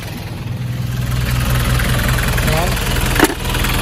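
A car engine idling under the hood during an alternator check after a blown main fuse, a steady close low hum with one brief sharp click near the end.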